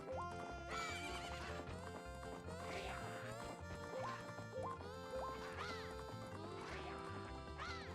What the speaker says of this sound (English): There are too many horses in this here range.